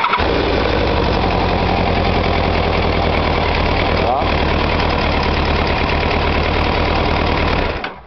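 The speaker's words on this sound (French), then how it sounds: "j'ai démarré le moteur et je l'ai monté en température" A warmed-up motorcycle engine idling, a loud, close, steady rumble with an even, unbroken pulse throughout, cutting off abruptly at the end.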